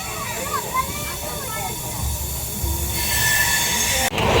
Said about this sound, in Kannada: ರೈಲ್ವೆ ಸ್ಟೇಷನ್ ಹೊಸದು ಇದು